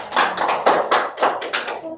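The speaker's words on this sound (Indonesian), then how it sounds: "Tepuk tangan buat Erin semuanya" Students applaud in a classroom during a micro-teaching practice lesson, a short burst of loud, fairly close hand claps in uneven rhythm that fades at the end.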